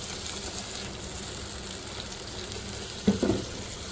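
Water poured into a cooking pot while making Afghani egg korma curry, a brief splash near the end over a steady sizzling hiss of frying.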